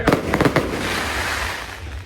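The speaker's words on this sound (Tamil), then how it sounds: "இவங்க பட்டாசு வெடிக்கிறது விட மாட்டாங்க போல" Firecrackers burst in a quick run of sharp cracks at a temple festival, close and loud, followed by a lingering crackling hiss and smoky rumble of crowd ambience.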